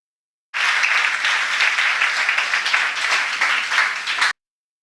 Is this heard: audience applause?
yes